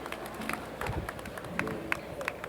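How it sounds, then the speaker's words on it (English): Audience applause following an introduction at a March on Washington commemoration event, a dense crowd of scattered claps sustained through the clip at moderate distance, with a faint murmur of voices underneath. "Please, a round of applause, ladies and gentlemen."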